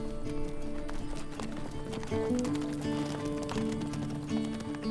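Horses run on a farm, their hooves making a rapid, continuous clip-clop that stays fairly close and steady throughout, mixed with other background sound.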